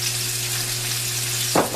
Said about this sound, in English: Our cranberries are going right now with that mint jelly in there